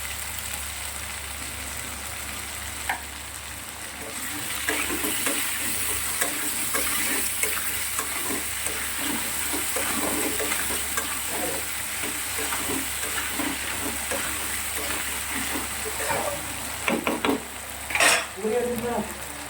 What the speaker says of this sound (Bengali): আলুটাকে সুন্দর করে লাল লাল করে ভেজে নেব।